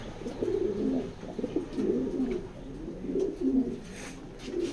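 Racer pigeons coo from inside a cage in soft, repeated low rolling phrases, steady and close but quiet.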